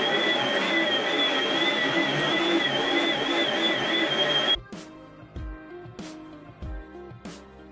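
Vacuum cleaner running as a steady whining drone for about four and a half seconds, then cutting off abruptly, followed by scattered clunks and knocks.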